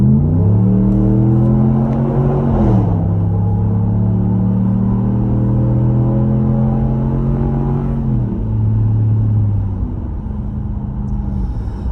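A 2019 Ram 1500 pickup fitted with a Mopar catback exhaust accelerates up a ramp onto a highway, its loud exhaust drone climbing through gear shifts and then easing off near the end, with no talking.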